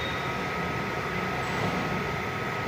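An orange eight-coach Vande Bharat express, running from Ernakulam to KSR Bengaluru, rushes past at full speed. It makes a steady, dense, unbroken roar throughout, heard from a station with no voices.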